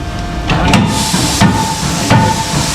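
Loud, close pneumatic hammering in a Hazet tool factory in Germany: a handful of sharp metallic strikes at irregular intervals over a constant hiss of air.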